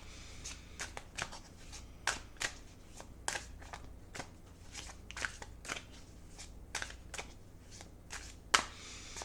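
Tarot cards are shuffled and pulled by hand, a close series of quick papery riffles and slaps in an uneven rhythm over faint background hum.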